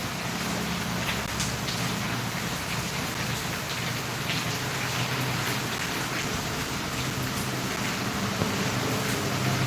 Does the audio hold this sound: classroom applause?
no